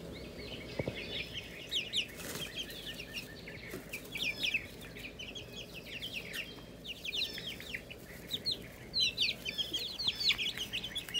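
Several backyard chickens, including a splash Marans with feathered feet, cluck and chirp steadily in a cottage coop, with overlapping calls close by and no talking.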